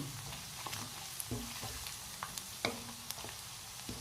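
Potatoes fry in a pan with a soft, steady sizzle, joined by a few scattered clinks and scrapes of a spatula, heard close and fairly quiet with no speech.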